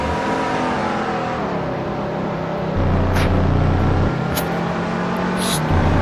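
NASCAR race car engine in a racing video game on the Qatar F1 circuit, a steady droning roar with harmonic whine that steps up in pitch through gear changes, loud and continuous with no talk.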